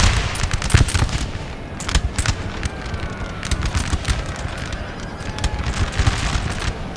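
Musket volleys crackle across a Napoleon: Total War battlefield, with sharp volley bursts and scattered shots over a steady rumble of massed infantry fire, loud and continuous, with no voices.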